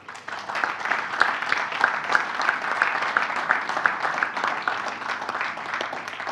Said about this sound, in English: So I would like for you to cheer, give them a clap.